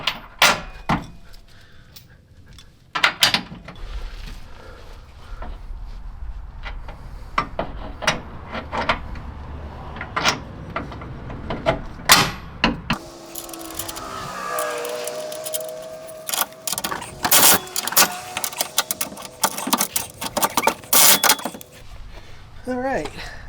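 Bolts being fitted through the frame of a Toyota Tacoma to mount a shackle hanger with teardrop washers: a string of sharp metallic clanks, taps and rattles at close range, irregular and scattered over a low shop hum.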